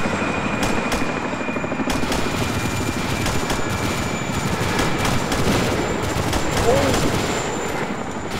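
Gunfire breaks out during what sounds like a combat situation, with several sharp reports scattered through a steady loud rumble resembling a helicopter overhead, while people are faintly heard nearby.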